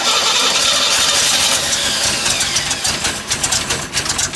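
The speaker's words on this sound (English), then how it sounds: "Now that the engine runs" A 1990s Cobalt boat engine, previously locked up, cranks and catches, then runs loudly and roughly nearby, its idle turning choppy and uneven toward the end.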